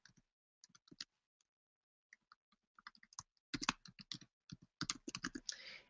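Keystrokes on a computer keyboard, close and crisp, starting as scattered isolated taps and then turning into dense fast bursts of typing.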